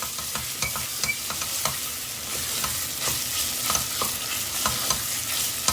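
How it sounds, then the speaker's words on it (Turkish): Tomato paste fries with onions and chicken in a pan, steady sizzling with a spoon scraping and stirring at irregular intervals, close and continuous, no talking. "Salçamızı soğanlarla tavuklarla beraber iyice bir kavuracağız."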